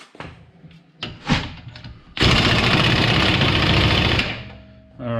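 An impact wrench snugs the wheel axle nut on a 2016 Nissan Rogue with a loose hub: a few clanks and taps, then a loud, continuous rattling burst of about two seconds that fades out.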